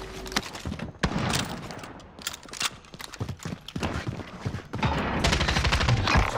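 Rapid gunfire bursts in Call of Duty Warzone on Rebirth Island, sharp repeated cracks and automatic volleys at close range, loud and irregular, with game radio chatter faintly underneath.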